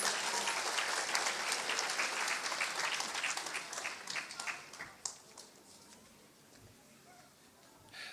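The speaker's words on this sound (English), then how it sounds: "Mr. Mayor Bazzi, please come up to the podium with a big round of applause." Audience applause at a 2022 graduation ceremony, a broad wash of many hands clapping that fades down over several seconds into quieter scattered claps, with faint voices under it.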